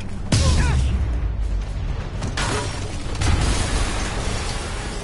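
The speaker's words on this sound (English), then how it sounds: "an explosion just..." An explosion goes off in the video game Marvel's Spider-Man, a sudden loud boom followed by a rumbling, debris-filled roar that fades into a steady noisy wash with a few more bursts.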